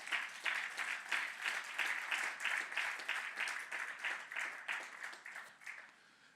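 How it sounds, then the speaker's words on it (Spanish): A church congregation applauds during a Spanish-language sermon, a steady wash of many hands clapping at close range that thins and fades toward the end, with no talk over it. "Un aplauso al Señor."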